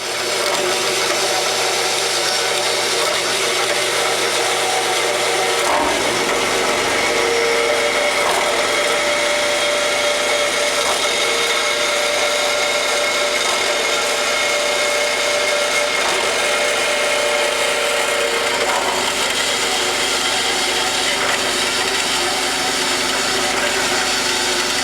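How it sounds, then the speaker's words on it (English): Power saw cutting metal tubing for an engine stand frame, a loud continuous grinding whine that shifts in pitch after a few seconds and runs on steadily, with no speech. "I'm going to start cutting this tubing up"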